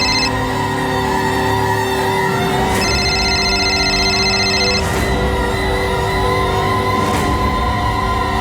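A telephone rings in repeated bursts against a steady background hum, loud and close, with no voices.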